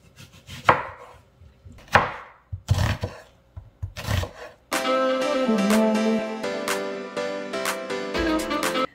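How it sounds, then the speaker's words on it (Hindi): A medium-sized onion is chopped on a board with a kitchen knife, four distinct heavy thuds spaced about a second apart, then a fast run of close, crisp cuts continuing to the end, with no speech. "एक मीडियम साइज का प्याज ले लें, इसको भी हम चॉप करेंगे।"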